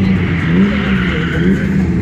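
A green BMW E30 fitted with a 360-horsepower V8 at gymkhana training, its engine holding a steady, loud, close drone with slight rises in revs and no one speaking.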